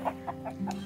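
A rooster on a rural family farm gives a few short, evenly spaced clucking calls, close by and moderately quiet.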